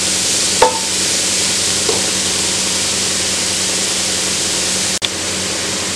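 Cabbage sautés in a pan for Kerala-style cabbage rice, a steady loud hiss of frying with a few brief clinks of a spoon stirring against the pan.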